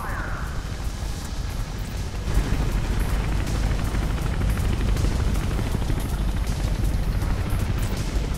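A helicopter in Mirror's Edge roars loudly and steadily with dense rotor noise, swelling a little after the first couple of seconds and holding the same intensity throughout.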